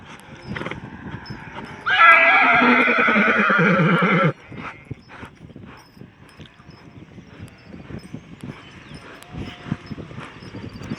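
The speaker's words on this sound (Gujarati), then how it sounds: "હા ઘોડો" A horse whinnies loudly and close for about two seconds, a long quavering neigh standing out over soft outdoor rustling and faint hoof movement in a rural setting.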